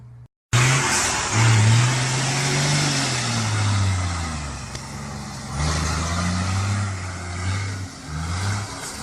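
A running diesel engine, a loud, close droning hum whose pitch rises and falls as if revving, continuous for several seconds after a brief silent start.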